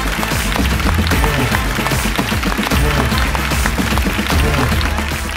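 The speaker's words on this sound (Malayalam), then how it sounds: "എല്ലാവരും എവർക്കും വേണ്ടി ഒരു നല്ല കൈയടി" Studio audience applauding at a Malayalam comedy show, dense steady clapping at full volume for about five seconds, with music underneath.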